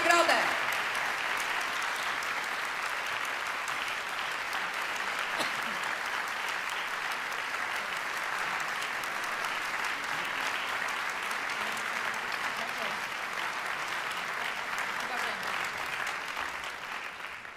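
Sustained audience applause at an award ceremony for a national vocal competition, steady and dense from start to finish, filling the hall without pause.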